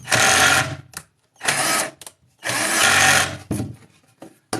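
A power drill bores holes, whirring loudly in four repeated bursts, each a second or so long, separated by brief pauses.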